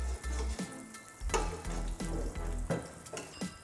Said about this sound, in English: With this hot oil, I'm gonna baste the top of the eggs to try to cook the whites.